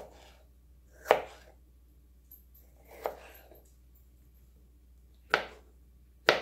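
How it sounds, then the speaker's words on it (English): A knife slices food into small cubes on a cutting board, giving four crisp, separate chops at uneven intervals, close and clear against a quiet background with no talking. "I'm just going to simply slice it like this"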